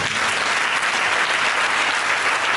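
Church congregation at a French-language service breaks into loud, sustained applause, with steady clapping filling the room for the whole stretch.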